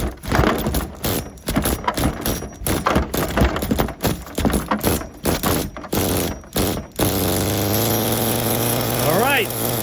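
An HPI Super Nitro RS4 RC car's nitro engine fires up after several short choppy pulling bursts, then settles into a steady high buzzing run for the last few seconds, loud and close.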